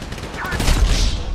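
A short, loud burst of rapid gunfire from Grand Theft Auto 5, set during a Paleto Bay shootout, close and sustained throughout.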